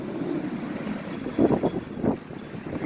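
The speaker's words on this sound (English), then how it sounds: "It's a little breezy here. It is a little windy here in Yuma, Arizona." Low, rushing desert wind in Yuma, Arizona buffets the microphone with a couple of stronger gusts in the middle, no talking heard.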